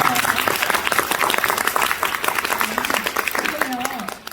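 A book-talk audience at a Hongdae hall breaks into brisk applause for the author, close dense clapping with a voice speaking over it throughout.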